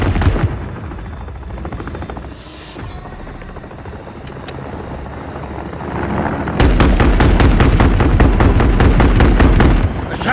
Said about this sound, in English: Attack helos on me.